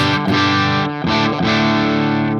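An electric guitar played through a Hughes & Kettner Spirit Nano amp with the gain up rings out as distorted, sustained chords. The chords are struck a few times in a row, close and loud, with no talking.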